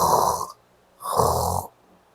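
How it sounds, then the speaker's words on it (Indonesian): A sleeping person snores loudly and close by, two long rasping breaths with a quiet pause between them in a steady slow rhythm, with nothing else heard. "beristirahat tidur sambil ngorok"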